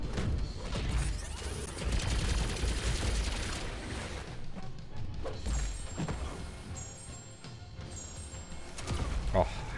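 Gunfire crackles amid dense fighting noise in Marvel Contest of Champions during a bout against Nick Fury, with clashing impacts and mechanical clatter filling the mix fairly loudly.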